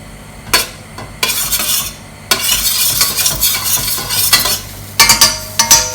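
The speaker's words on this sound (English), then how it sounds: "you want to get that pan sizzling" Loud hissing sizzle in a hot pan with scraping and clinks of a utensil stirring, close up and unbroken by speech.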